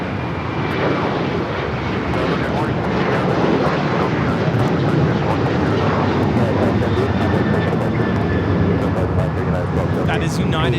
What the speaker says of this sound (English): That is United Airlines 1278 taking off to Cancun on the 737-900ER.